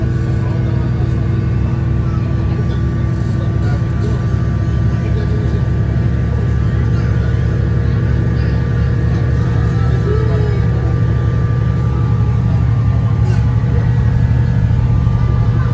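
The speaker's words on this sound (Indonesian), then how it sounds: "Udah pulang ngebut, suara mesinnya kedengeran ya." Steady engine drone and rumble of the KA Batara Kresna train running at speed, a continuous loud hum with rail noise throughout and no pauses.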